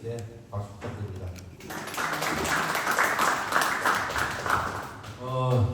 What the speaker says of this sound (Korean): 방금 때까지 여러분들 위해서 늦게까지 가르쳐 주신 우리 목사님께 박수 부탁드립니다.